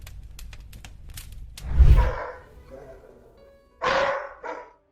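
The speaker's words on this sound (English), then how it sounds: "a dog started barking aggressively, as if he had encountered something in the hallway" Indoors in a hallway in the middle of the night, a dog barks aggressively in a few loud, sharp bursts, separated by gaps, with light clicking and tapping noises before them.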